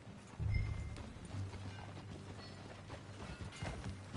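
Rhythmic hoofbeats of a horse galloping in Red Dead Redemption 2, fairly faint and steady over a wash of background noise.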